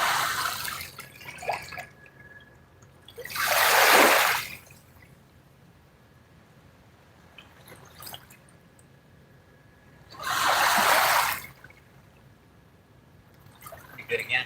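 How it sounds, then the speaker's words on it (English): Boat wake from a passing cabin cruiser washing against a lake shore in two loud surging bursts several seconds apart, with quieter lapping water between them, close to the microphone. "I'm probably going to have to wait for the waves to slow down"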